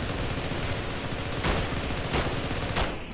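Rapid automatic gunfire from the video game SCP Containment Breach rattles continuously and loudly, with a few heavier bursts standing out before it cuts off abruptly near the end.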